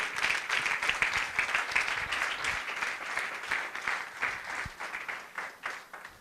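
A church congregation applauds for about six seconds, dense and steady with individual claps audible throughout the hall, no voices over it.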